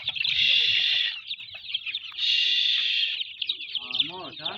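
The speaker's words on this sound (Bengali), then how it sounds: "দেশি মুরগির বাচ্চা" Native chicken chicks and clucking fowl: two sustained high chirping bursts, loud and close, then busier peeping and clucking, with faint background noise and no clear talk.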